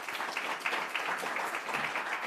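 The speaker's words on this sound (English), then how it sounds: "Big round of applause." Audience applause at a forum, a steady broadband wash of many hands clapping that holds at an even, moderately loud level throughout, with no talking over it.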